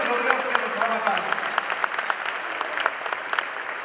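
Congregation at a Catholic evangelization talk applauds loudly, a dense continuous wash of many hands clapping with individual sharp claps standing out and faint voices mixed in.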